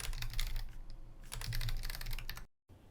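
Typing on a computer keyboard while entering setup commands for a Craft CMS install, a steady close run of keystrokes over a low hum, with a brief dropout near the end.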